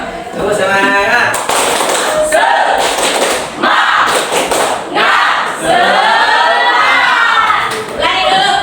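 A group of students shout the rhythmic tepuk semangat chant in unison, loud, close and energetic, with sharp synchronized claps punctuating the chanted words in a repeating pattern.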